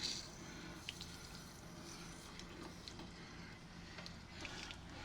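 Sediment-laden water drains from a home water heater tank, giving a steady, soft broadband wash of running water with faint scattered drips and splashes throughout.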